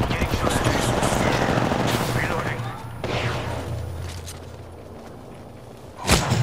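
Rapid automatic gunfire from a video game battle, dense and loud bursts that fill the first seconds and then thin out, with a player talking over the shooting and a sudden sharp blast near the end.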